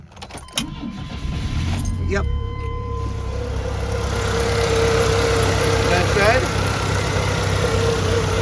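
Keys jangle before a Chevrolet S10 truck's engine cranks briefly, catches and settles into a steady, close idle, with someone speaking a few words near the start.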